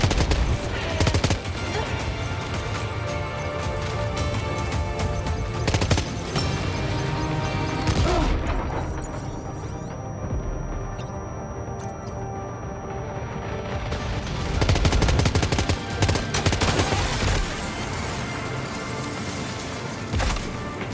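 Sustained gunfire in Death Stranding 2: On the Beach, dense rapid bursts and crackling shots layered with mechanical clatter and music, loud and continuous, tailing off midway before surging again.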